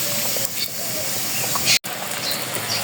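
Bora fritters frying in hot oil give a steady, loud, broadband sizzling hiss, with a brief dropout partway through before the frying continues unchanged.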